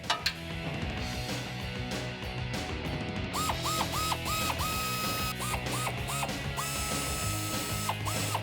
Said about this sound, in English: We're going to take out the 3 bolts with a 5mm Allen key.